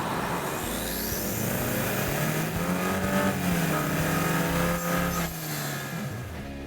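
A 2017 Buick Cascada's turbocharged 1.6-liter engine pulls hard at full throttle, a steady loud drone with rising harmonics as it accelerates, close and continuous without any talk.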